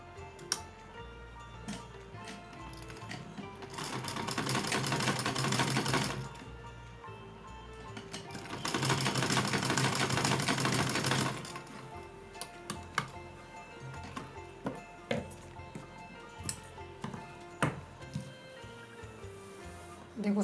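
A sewing machine stitches fabric for a small Laddu Gopal deity dress in two steady, close bursts of a few seconds each, separated by light clicks and handling noises.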